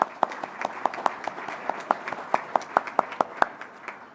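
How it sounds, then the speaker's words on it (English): Audience applause for visitors and guests at a farewell program, a steady patter of many hands clapping with sharper individual claps standing out, moderately near and continuing throughout with no talk. "Please join with me in giving them a round of applause."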